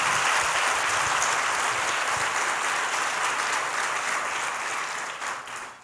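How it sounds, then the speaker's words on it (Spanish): Loud, sustained applause from a church congregation, a thick even roar of many hands clapping that holds steady and tapers slightly at the end. "Podemos darle fuerte ese aplauso al Señor."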